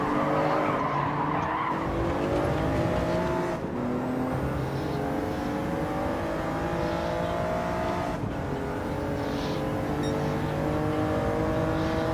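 Race car tires squeal and slide under braking in Gran Turismo 7, a long, loud screech over the steady drone of engines, with a few sharp shifts in pitch.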